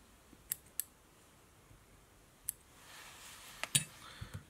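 Scissors trim waste material while tying a flatwing baitfish fly, giving a handful of sharp, isolated close snips spaced irregularly over a quiet background.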